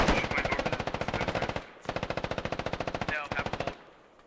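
Automatic gunfire in the military shooter game Squad, two long rapid bursts of rattling shots with a brief gap between them, loud and close, ending with a short tail.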